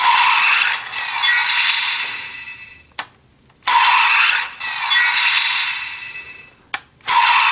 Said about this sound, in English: you'll get a zooming sound mixed with a bit of a magic twinkle.